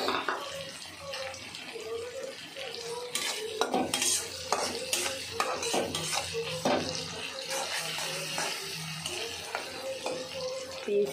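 Green chilies and onion frying in a pan while being stirred, with repeated scraping and clinking of a spoon against the pot over a steady sizzle, close and continuous.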